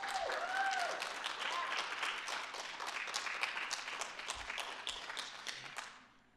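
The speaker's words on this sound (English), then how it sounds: "Can we give the aforementioned staff a big round of applause?" A crowd applauding steadily, many hands clapping at once, sustained and fairly loud before fading out at the end.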